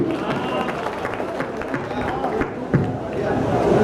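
Audience at a kavi sammelan poetry recital in Chandausi applauds, a steady wash of clapping with crowd murmur and a few sharper claps, moderately loud and continuous.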